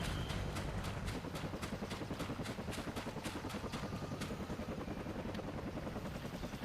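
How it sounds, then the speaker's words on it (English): A helicopter arrives to land in a video game, its rotor thudding in a fast steady rhythm over a dense engine roar, loud and close throughout with no talking. "Here comes the helicopter."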